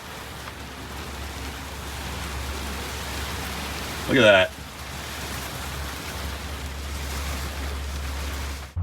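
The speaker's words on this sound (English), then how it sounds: "There's a little bit of hail or something falling from the sky." Hail falls on a vehicle in a steady, dense patter that fills the whole stretch, with a brief spoken remark near the middle.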